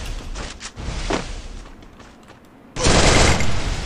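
Gunfire in the mobile shooter Free Fire Clash Squad mode comes as a few scattered shots, then a loud dense burst of firing toward the end.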